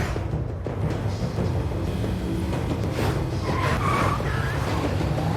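Cars race each other in a road chase, a dense, loud wash of engine roar and tire noise that barely lets up, with brief higher squeals near the end.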